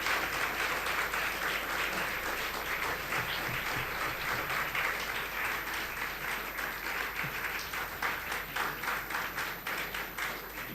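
An audience at a science event applauds its volunteers, giving a sustained, even roar of many hands clapping that holds steady for about ten seconds, fairly distant and unbroken by voices.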